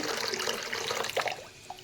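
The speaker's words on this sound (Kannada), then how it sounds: "ಇದಕ್ಕೆ ನಾನು ನೀರು ಹಾಕ್ತಾಯಿದ್ದೀನಿ" Water is poured onto washed lentils for Andhra-style rasam, a close, steady splashing gush that runs continuously before tapering off near the end.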